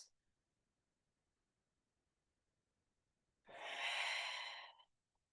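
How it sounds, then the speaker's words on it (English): A single deep breath during a breathing exercise, a soft airy exhale of about a second heard close and alone after near silence. "let's counter that with some big, beautiful breaths"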